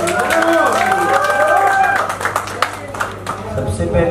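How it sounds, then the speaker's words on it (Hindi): An audience claps at a Bhojpuri song release event. A speaker talks over the start, then scattered clapping picks up and grows denser toward the end. "जोरदार तालियां बजाएं।"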